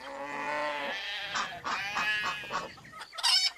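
Farmyard animals call in short bursts: a drawn-out bleat, then rapid clucking and squawks from chickens, fairly close and with nobody speaking.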